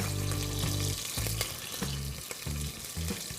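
Mustard seeds, green chillies and curry leaves sizzling in hot oil for a spicy one-pot rice, a loud steady hiss and crackle with intermittent stirring scrapes and low clunks, no voices.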